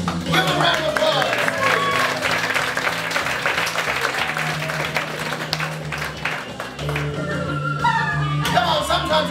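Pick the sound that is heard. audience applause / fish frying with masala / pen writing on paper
audience applause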